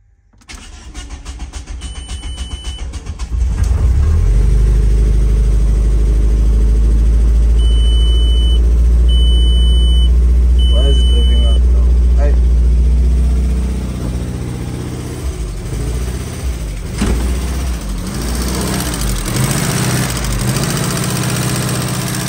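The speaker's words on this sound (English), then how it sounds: "So here's the first startup ever since we fixed that thing." A Volkswagen Golf project car engine cranks and fires for its first startup since a repair, then settles into a loud, steady idle close by, with the revs easing down slightly toward the end and no talk.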